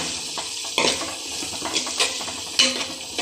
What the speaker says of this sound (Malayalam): ഇത് നല്ലപോലെ ഒന്ന് മൂപ്പിച്ചെടുക്കണം